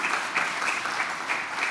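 Brief burst of audience applause after a start-up pitch at an energy infrastructure showcase, dense and even clapping from a moderate-sized crowd, steady throughout.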